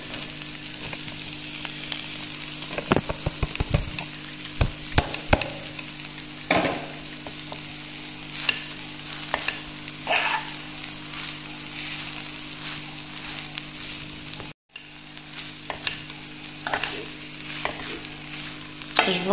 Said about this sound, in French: Donc là je vais mettre les oignons.